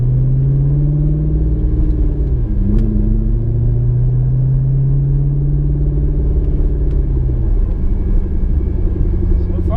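A manual-transmission car pulls away up a hill, its engine a loud, close, steady low drone whose pitch dips and resettles briefly early on before holding firm through the climb.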